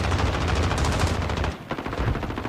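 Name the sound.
gunfire in a video game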